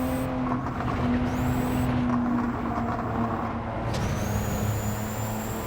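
Honda S660 race car engine in Gran Turismo 7, racing at Lago Maggiore: a steady, loud, sustained drone with a constant tone and a few brief pitch shifts over about six seconds, no talking.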